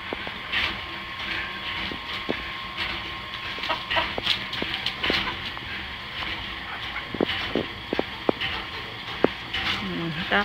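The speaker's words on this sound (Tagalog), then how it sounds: "Habol ang mga manok." Chickens cluck in an outdoor farmyard while people talk and call out, the clucks scattered through gusty wind noise and background chatter.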